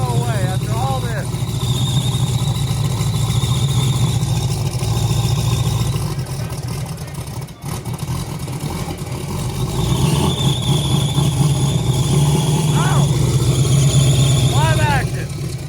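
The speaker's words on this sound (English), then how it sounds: "This car has had a belt screech forever." A car engine idles and revs while its drive belt screeches in shrill bursts near the start and end, loud and close, with people talking over it.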